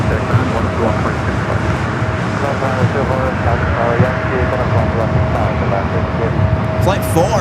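A Boeing 777-300 airliner touching down on the south side at LAX, a broad, steady roar of jet noise with a faint sustained tone running through it, heard under continuous talking at a fairly loud level.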